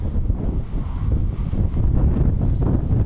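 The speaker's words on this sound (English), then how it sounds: "A bit windy" Steady, heavy wind buffeting the microphone outdoors in north Lancashire while metal detecting, a continuous low roar with no pauses and nothing else clearly audible.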